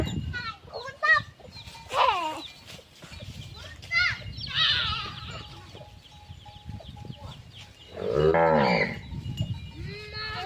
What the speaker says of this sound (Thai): กำลังจะไล่วัว